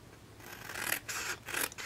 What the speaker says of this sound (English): I'm going to cut up to the 2" score line